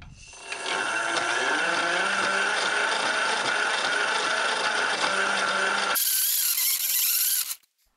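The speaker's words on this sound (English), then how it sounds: "this grinder noise is irritating when sped up" A continuous, harsh grinding drone of a hand-spun grinding wheel against shell, loud and steady for several seconds, then switching to a brighter scraping before stopping abruptly.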